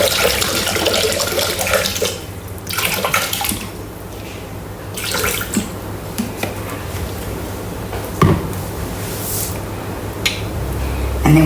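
Water pours steadily into an unwashed Thermomix bowl, 500 grams measured for steaming spiralised zucchini noodles, a continuous close splashing stream with small clinks partway through and no talk.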